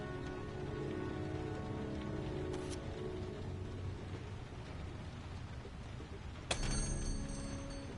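Steady rain pours down in the game Heavy Rain, a dense, even hiss with a sharp click-like crack near the end and no voices.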